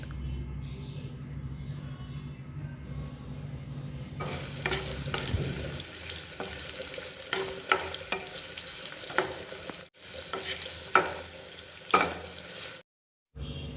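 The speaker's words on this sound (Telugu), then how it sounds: "నిలువుగా కట్ చేసుకున్న ఒక ఉల్లిపాయ సన్నగా తరుక్కొని వేయించుకోవాలి" Thinly sliced onion fries in a pan, a soft background hiss that turns into louder, busy sizzling with repeated stirring clatter, ending in a brief silence.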